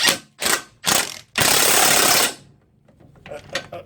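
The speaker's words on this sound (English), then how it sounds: "I'm going to see if I can get in with the gun again." An impact gun works on the front strut bolts of a 1997 Mitsubishi RVR, giving three short loud rattling bursts and then a longer sustained one, followed by quieter clicking and handling noises nearby.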